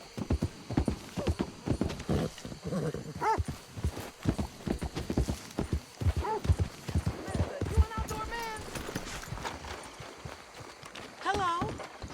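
In the Red Dead Redemption 2 video game, a horse's hooves clip-clop in a quick, steady galloping rhythm throughout. A few whinnies and spoken voices come in over the hoofbeats.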